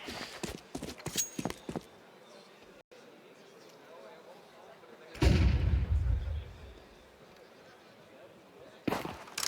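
Players' footsteps in a Counter-Strike match: rapid, clattering stomps in quick succession early on, then a loud booming burst, all set in dense game ambience at a professional tournament.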